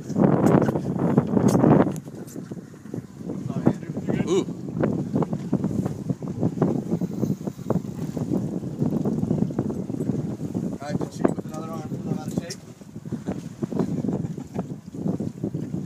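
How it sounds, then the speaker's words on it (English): Strong wind buffets a fishing boat out on the water, a loud continuous roar of gusts hitting the microphone, with people talking over it throughout. "Wind is pumping a good"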